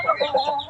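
A mother hen clucks in short, repeated bursts close by, a steady run of throaty calls with no other sounds around them.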